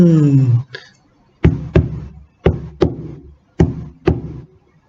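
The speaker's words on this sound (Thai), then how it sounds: "ทันใดนั้นก็ได้ยินเสียงเคาะประตูดังขึ้น" Knocking on a wooden door as a sound effect: three pairs of sharp double knocks, evenly spaced and close, following a brief sliding tonal sound at the start.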